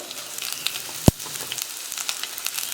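Ginger, green chili and onion fry in coconut oil with a continuous close crackling sizzle, broken once by a single loud thump midway, with no talking.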